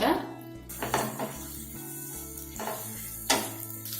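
Ginger garlic paste sizzles and fries in a pan with curry leaves while an egg pepper roast is cooked, steady hiss broken by a few sharp spoon and pan clinks.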